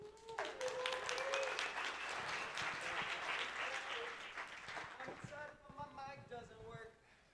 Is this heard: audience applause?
yes